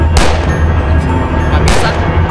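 Two sharp gunshots ring out about a second and a half apart in the Mr Hopps Playhouse horror video game, loud and close over a steady low droning background.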